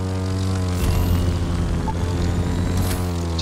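Propeller airplane engine in the racing video game The Crew 2, a steady loud droning hum with strong harmonic tones, continuous and close throughout with no speech.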